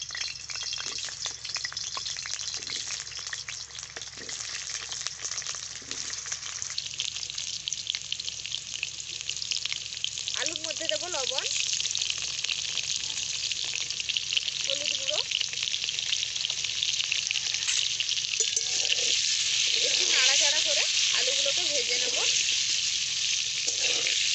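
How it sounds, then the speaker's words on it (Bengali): Cut potatoes sizzle and crackle in hot oil in a wok-like karai, a loud continuous frying hiss with occasional stirring and brief faint voice-like sounds. "তেলের মধ্যে আমি কেটে ধুয়ে রাখা আলু দিয়ে দেবো"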